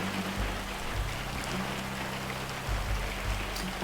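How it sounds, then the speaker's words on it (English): Steady, dense rain hisses and patters in a video game, a constant wash with a low rumbling undertone and no voices. "Everything fell dark and silent again, except for the rain."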